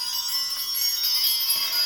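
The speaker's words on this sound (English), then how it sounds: "I want to ring the bells and call in the angels" Bells rung to open a tarot reading, giving a steady high shimmering ring that holds evenly throughout, with no voice over it.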